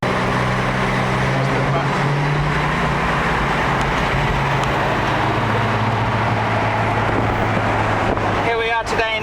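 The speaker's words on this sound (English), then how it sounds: "This is a Mercedes 230 SL Pagoda tick over." A 1965 Mercedes-Benz 230SL Pagoda engine idling, a steady low rumbling drone throughout with a brief rattle at the very end, no words spoken.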